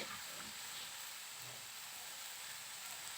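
Fresh spinach sizzling in a pan with fried eggplant, a steady, soft, broadband hiss of frying that carries on evenly throughout with no voices.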